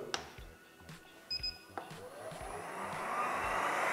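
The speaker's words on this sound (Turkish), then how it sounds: "Şu an çalışıyor gördüğünüz gibi bu vakumun sesi." A window cleaning robot's vacuum motor runs with a steadily rising whir that grows louder over a few seconds, after some beeps and clicks at the start.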